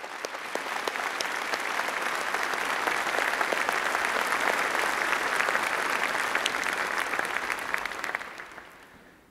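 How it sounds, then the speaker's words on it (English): An audience at a university graduation ceremony applauds for several seconds, a dense sustained clatter of many hands filling a large hall before fading out at the end. "I'd ask you to join me in giving them a round of applause"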